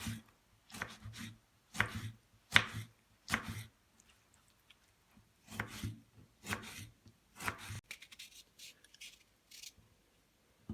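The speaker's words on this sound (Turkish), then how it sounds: "Domatesimizi de küçük küçük küp şeklinde doğrayalım." Rapid knife chops dicing tomatoes into small cubes on a cutting board in uneven bursts, crisp and close, with short pauses between runs of cutting.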